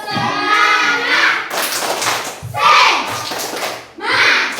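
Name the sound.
children doing a rhythmic spirit clap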